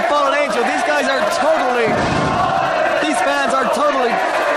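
A wrestling crowd at an Irish Whip Wrestling show chants rhythmically for the Fallen Angel, Christopher Daniels, loud, dense and close, with repeated chant phrases and a brief roar between them, under a commentator's voice.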